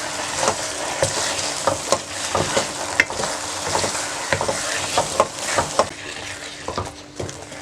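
Halwa cooks in oil or ghee while being stirred hard, loud sizzling bubbling under repeated rhythmic scrapes and knocks of a spoon against the pot, close and busy throughout.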